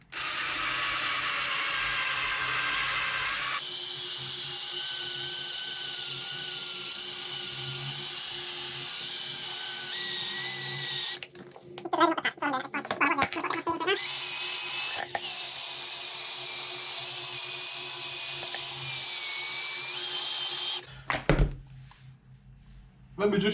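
A machine polisher working on a Honda CBR 600 RR motorcycle, a loud continuous high whine that shifts pitch with load, broken midway by a short pause with handling noise and stopping near the end, close by.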